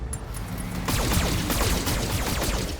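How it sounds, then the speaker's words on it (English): A rapid salvo of weapons fire in the Battletech game erupts after a brief lull, a dense rattling barrage of overlapping shots and impacts lasting a couple of seconds. "That was a lot of well-focused fire."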